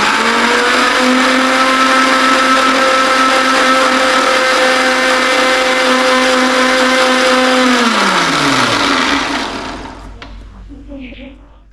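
A mixer blends oil into homemade mayonnaise, giving a loud steady motor whine that holds for about eight seconds, then drops in pitch and fades as it switches off.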